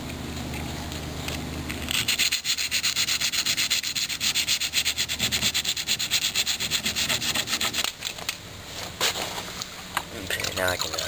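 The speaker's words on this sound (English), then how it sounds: "I'm going to dry sand this area up here briefly where the mirror was" 60-grit sandpaper dry sands the fiberglass body of a 1976 Corvette near the mirror area, a loud, close, rhythmic back-and-forth rasping in steady strokes for most of the stretch before briefly pausing.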